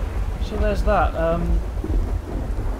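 Thunder rumbles beneath steady rain in an Elder Scrolls video game running the Climbers of Tamriel mod, a continuous low, wet wash that stays close and full while someone talks over it.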